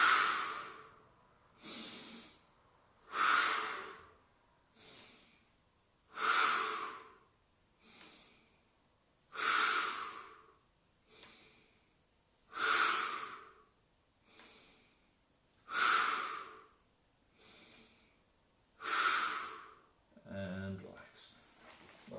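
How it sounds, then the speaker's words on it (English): Deep, deliberate breaths in and out during a Pilates core and balance workout, repeating in a slow steady rhythm of about a dozen loud, close breaths before a brief rustle at the end. "So breath in, breath out and lift."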